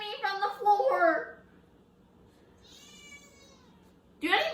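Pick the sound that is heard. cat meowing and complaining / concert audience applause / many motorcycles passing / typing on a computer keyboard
cat meowing and complaining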